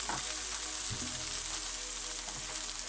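Onions sizzle steadily in hot oil in a pan for spinach and red lentil sabzi, a constant close frying hiss with a few soft stirring scrapes and no talking.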